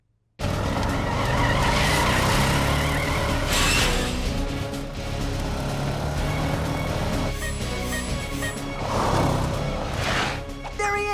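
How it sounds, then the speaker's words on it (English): Cartoon super secret government monster truck skidding hard, a loud sustained tire squeal and engine roar that runs nearly the whole clip, with brief bursts and swells toward the end. "I give you the super secret government monster truck"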